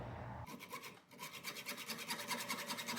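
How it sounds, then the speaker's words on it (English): A hacksaw cuts through excess pin material on a knife handle clamped in a vise, giving quiet, rhythmic back-and-forth rasping strokes after a short pause. "Clamp it down in a vise and then cut it off with a hacksaw."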